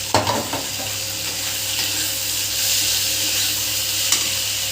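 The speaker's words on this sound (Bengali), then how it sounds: "আমি চিনি মাছগুলো দিয়ে দেবো" Small fish frying with spices in hot oil make a steady, close sizzle that fills the whole stretch, opening with a brief clatter as they go into the pan.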